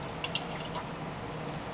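Adams graphene car shampoo being poured into a car wash bucket gives a short, faint liquid trickle with a few soft drips near the start, heard alone.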